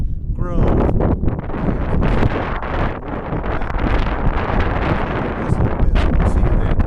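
Heavy wind pounds a microphone at the South Fork Spillman Creek stone arch bridge near Sylvan Grove, producing a steady, loud, close rumbling roar that hardly lets up, with no voices.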